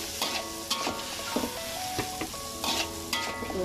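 Tuhau stir-fried with anchovies sizzles steadily in a pan, with repeated scraping stirs and light clinks of a utensil against the pan at close range, no talk.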